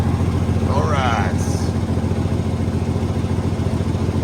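Detroit Series 60 diesel engine in a cabover truck idling steadily after starting, a close, continuous low rumble with a brief higher whine early on and no clear start.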